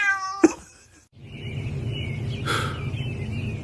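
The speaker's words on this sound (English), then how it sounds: "I heard my cat meowing" A house cat meows once, briefly and close by, at home. After a short pause a soft steady background hum takes over, with one further faint, breathy sound partway through.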